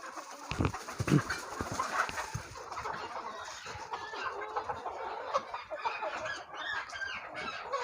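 Gavran hens kept in a traditional backyard setup cluck and murmur continuously in a busy, close chorus, with scattered squeaks and no speech.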